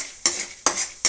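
Okra (ladies finger) with chana dal frying in a pan while being stirred, three quick scraping strokes over a soft sizzle, close and fairly loud.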